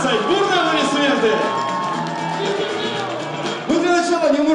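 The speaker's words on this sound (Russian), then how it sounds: "Бурные аплодисменты!" Stormy applause and cheering from an audience at a beauty contest final, a dense continuous crowd roar with whoops, loud and sustained throughout, with a voice briefly rising above it near the end.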